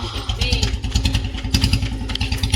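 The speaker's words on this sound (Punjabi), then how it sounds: "ਮੈਂ ਕਬੀਰੇ ਬੁਲਟ ਦੀ ਪਛਾਣ ਆ ਮੈਨੂੰ" A Royal Enfield Bullet motorcycle engine pulls up close and loud, its heavy single-cylinder thump beating in a fast, even rhythm with some mechanical clatter on top.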